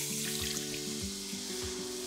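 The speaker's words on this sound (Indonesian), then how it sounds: "Kemudian masukkan air." Water poured into a cooking flour-and-fat roux for a brown sauce, giving a steady, close-up sizzle and watery splashing, with repeated low thumps of stirring against the pan.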